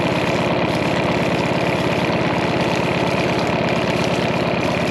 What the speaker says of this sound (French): Que le moteur chauffe un tout petit peu, comme ça au moins ça le fait tourner.